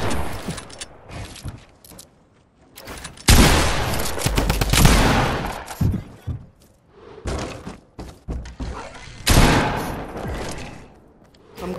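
Loud bursts of automatic gunfire in a first-person shooter game, clustered volleys separated by short quiet gaps, close and dominant with no talk.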